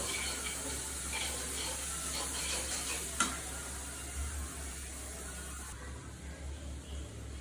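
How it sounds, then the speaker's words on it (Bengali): Turmeric, salt and spices stir-fried in a pan while cooking prawns with water lily stems, a steady broad sizzle running throughout with a sharp clink of a utensil near the middle. "হলুদ সব কয়টা মশলা ভালো করে কষিয়ে দিব"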